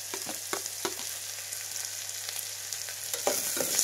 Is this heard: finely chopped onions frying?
yes